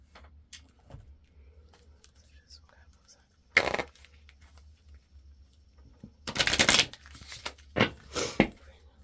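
Tarot cards are shuffled in a few short, crisp bursts between quiet stretches, close and fairly soft, with faint whispering.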